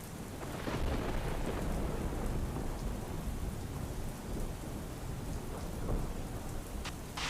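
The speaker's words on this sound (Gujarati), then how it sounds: "સુરત ખાતે અનરાધાર વરસાદ વરસી રહ્યો છે" Heavy monsoon rain pours steadily and loudly in Surat, India, a dense continuous roar with occasional low rumbles of thunder mixed in, no voices.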